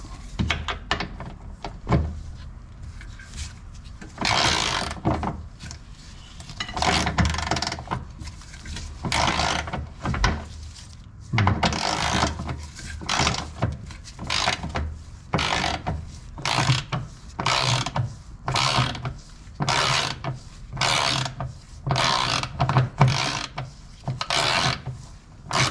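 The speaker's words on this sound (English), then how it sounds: "I hope I can just use the ratcheting wrench to deal with the rest" Ratcheting wrench loosening nuts on a 2001 Miata 6-speed transmission: a long series of quick, close clicking ratchet bursts repeating in steady rhythm, with no talk.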